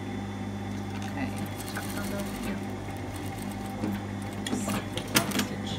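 A sewing machine stitching a woven dress, its steady motor hum running throughout at close range with a few small clicks and handling knocks near the end.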